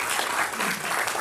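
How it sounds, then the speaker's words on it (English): An audience claps steadily for a guest speaker at a church health event, a dense, even round of applause that fills the whole short stretch. "and let's give Dr. Scott Morris a round of applause."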